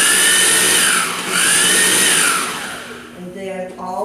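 A kitchen blender whirs through tomatoes, its loud motor whine dipping and rising in pitch as the blades churn, then cutting out near the end as softer clatter follows.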